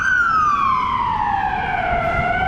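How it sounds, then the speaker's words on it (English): An emergency vehicle siren wails loudly along a street in Ghent, one long sweeping tone gliding steadily downward over low traffic rumble. "ignore the sirens"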